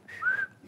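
A single short clear whistle, standing in for a swear word during a spoken stage performance at Malostranská beseda, heard alone and close for under a second.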